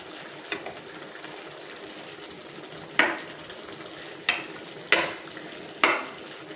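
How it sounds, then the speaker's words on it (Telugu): Eggplant simmering in a pot for vankaya dum biryani, a faint steady bubbling bed broken by four sharp knocks of a utensil against the pot, with no talk. "చూడండి ఈ వంకాయ ఉడుకుతుంది కదా, ఈ వంకాయనేమో ఇలాగా ఉల్టా చేద్దామండి. 2 పక్కల ఉడుకుతుంది కదా,"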